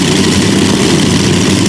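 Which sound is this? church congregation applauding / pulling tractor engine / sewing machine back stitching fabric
pulling tractor engine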